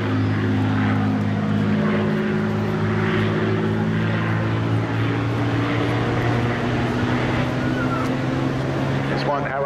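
A restored vintage propeller aircraft flies at the English Riviera Airshow in 2022, its engine a loud, steady drone throughout while a commentator talks over it.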